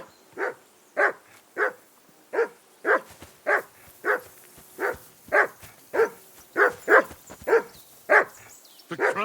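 A dog barks steadily in Kingdom Come: Deliverance 2, about fifteen sharp, evenly spaced barks over nine seconds, loud and close, with a few whimpery yips mixed in and no talking.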